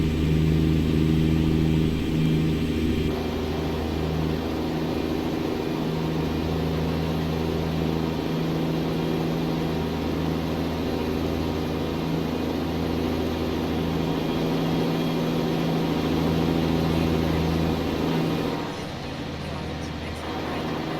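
A simulated Mack R truck hauling a 1950s Fruehauf tanker cruises along a Texas highway near oil fields, its engine droning steadily and loudly under a constant low rumble, with a slight drop in level near the end.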